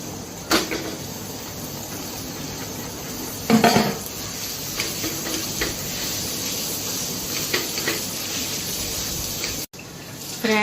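Mashed potatoes and cooked peas are sautéed in a pan for samosa filling, with steady soft sizzling and occasional scraping clinks of a utensil against the pan.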